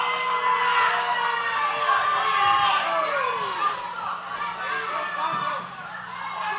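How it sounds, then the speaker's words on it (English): Wrestling crowd at an OVW Overdrive show cheering and shouting in a steady, loud roar, with excited voices and a few shrill calls rising and falling over several seconds. "Again, this crowd strong behind Tony Gunn, giving him that motivation, giving him that fight to get back on his fe"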